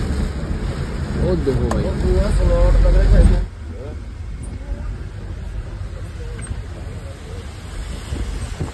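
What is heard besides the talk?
heavy rain and cold wind on the road to Manali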